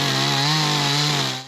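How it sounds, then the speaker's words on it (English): Chainsaw carving wood, a chainsaw artist at work on a campus in Trumbull; a steady, loud, close engine drone holds its pitch throughout, then tails off slightly at the end. "Known as the Jer Bear, he's a chainsaw artist adding his touch in Trumbull."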